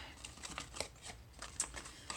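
Paper is crumpled by hand to distress a small handmade craft bag, producing a steady, soft crinkling rustle close by with no speech.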